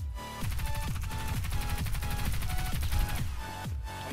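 Rapid gunfire from a shooter video game with a SIG Sauer P226 pistol, dense overlapping shots and game effects in a continuous loud burst with no talking.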